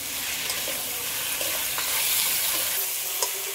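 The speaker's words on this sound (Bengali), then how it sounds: "ভালো করে মাংসটা একটু কষে নেব" Pre-boiled mutton is stirred and sautéed in spiced oil for biryani, giving a continuous loud sizzle with crackling close by and occasional scraping from stirring.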